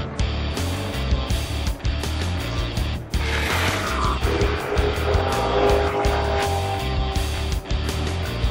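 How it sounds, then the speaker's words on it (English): A Camaro race car in the Trans Am TA3 American Muscle class roars at full throttle, the engine note loud and continuous with gear changes and brief tire squeal as it races, close to the microphone. "racing a Camaro"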